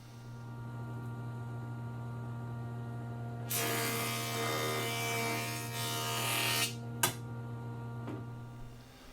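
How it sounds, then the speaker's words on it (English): A jointer planes the edge of a 2x6 board of dimensional lumber in a woodshop, a loud broadband whirring pass of about three seconds rising over a steady electrical hum, then cutting off with a sharp knock. "we're going to run it through the joiner."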